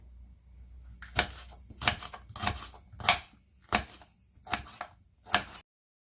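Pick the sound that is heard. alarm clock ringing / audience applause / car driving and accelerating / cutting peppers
cutting peppers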